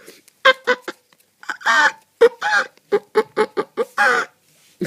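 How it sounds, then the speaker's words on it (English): An origami flip-flap bird toy gets a voiced, cartoon-like chicken clucking: a choppy string of short squawking bursts with brief pauses between them, close and fairly loud. "Sort of a very cartoony... What would you call it? Chicken sound."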